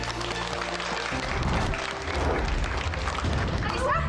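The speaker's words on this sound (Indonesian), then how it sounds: "Tepuk tangan buat kalian." An audience applauds the finalists of a teen magazine cover girl contest, continuous clapping filling the clip with crowd noise and some low rumble underneath.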